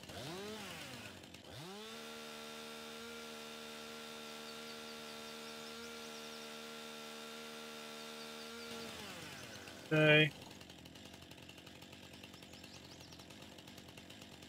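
A chainsaw in the Farming Simulator 19 video game, used to clear dead wood, drones at a steady pitch for about seven seconds and then winds down. A short loud burst follows, and one brief word is spoken.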